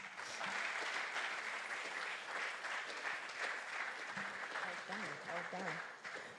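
A workshop audience on gender-based violence and sexual harassment gives a sustained round of applause, steady and full throughout, with a voice speaking over the clapping in the latter half.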